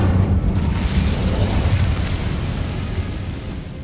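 An Incendio fire spell cast in Hogwarts Legacy on PS5 lets out a loud, dense roaring whoosh of flame that fills the clip and slowly tapers off, with no voices over it.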